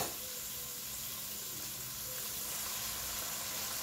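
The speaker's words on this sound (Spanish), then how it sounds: "Vamos primero que nada a freír un poquito las carnes primero." Meat frying in a pan as the first step of a Cuban arroz sucio rice dish, a continuous steady sizzle and hiss throughout at moderate level.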